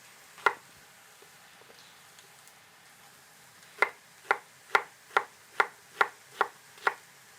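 Onions being chopped with a knife on a board for an oven-baked beef shank dish: one sharp chop, a pause, then a steady run of about eight crisp, evenly spaced cuts, close and alone.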